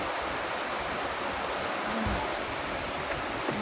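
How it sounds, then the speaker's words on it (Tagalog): Floodwater gushes through a doorway, forced in by a passing vehicle's wake during a flood, a loud, steady broadband rush that fills the whole clip with no talk over it. "Sa pinto dumadaan ng tubig."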